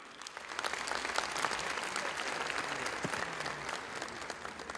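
Sustained applause from a large crowd at a Turkish political party congress, dense and steady clapping throughout, loud and close, with faint crowd murmur underneath.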